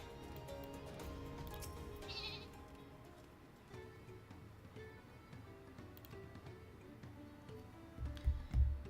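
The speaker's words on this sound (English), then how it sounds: "Go, my sheep friend, go." A sheep bleats in the Final Fantasy XIV game during a seasonal event, one short cry heard over steady game music, with a louder low thump near the end.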